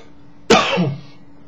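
A single sharp cough after vaping e-liquid bursts out, followed by a brief rough throaty tail, close and fairly loud against a quiet background.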